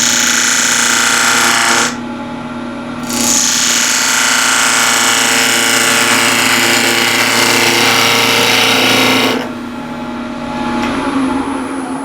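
A yew box spinning on a wood lathe while a tool cuts against the grain, loud steady whirring and rasping that drops away briefly twice as the cut pauses, then resumes.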